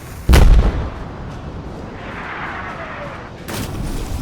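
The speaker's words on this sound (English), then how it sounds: "Hey, Waster, how's that cannon going?" Ship's cannon fired in a volley during a sea battle: one loud, close boom with a long rumbling tail, followed by a second blast at the end.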